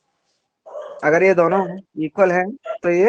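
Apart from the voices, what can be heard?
dogs barking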